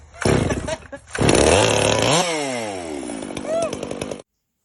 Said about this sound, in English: we got the MS460 running a dry shot of nitrous on the bench